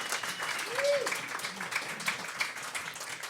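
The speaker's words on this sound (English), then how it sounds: "Round of applause for that." An audience at a live folk club show applauds in a steady, crackling wash of clapping that lasts a few seconds, with a voice speaking over it.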